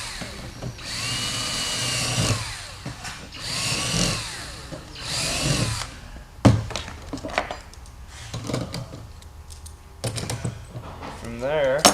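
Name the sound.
drilling holes for fuel tank cap ring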